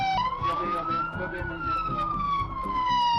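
An ambulance siren wails, rising and falling slowly, loud and nearby, over the low rumble of highway traffic at a multi-vehicle crash scene.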